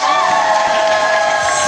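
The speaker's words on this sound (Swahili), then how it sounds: "Ningesikia hata makofi kwa Mungu." A church congregation claps for God, a dense, steady burst of loud applause and crowd noise over a sustained musical drone, brief and close.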